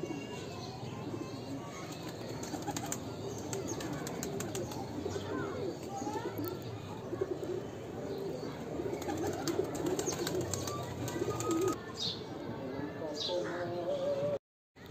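Pigeons coo and flutter outdoors, soft throaty coos and bursts of wing flapping over a background of ambient noise, fairly faint and scattered, with a voice briefly audible.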